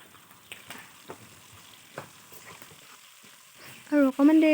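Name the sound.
stir-frying chicken meat in a pan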